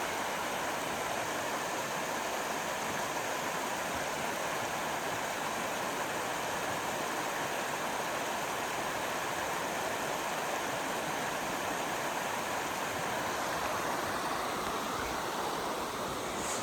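South Fork Silver Creek in Silver Falls State Park, Oregon, rushes through a green canyon, a steady broadband roar of flowing water heard from nearby, unbroken and without talk.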